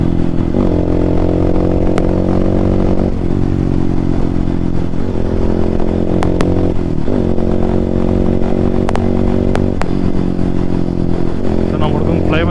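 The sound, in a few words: Hero Xpulse motorcycle with rally kit exhaust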